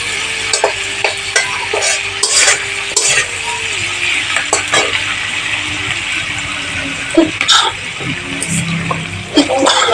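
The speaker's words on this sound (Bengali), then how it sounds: "সামান্য হলুদ দিয়ে নাড়াচাড়া করছি" Chilli chicken ingredients with a little turmeric being stirred in a hot pan, giving a close sizzle under irregular clattering spatula scrapes against the metal, with a few louder knocks.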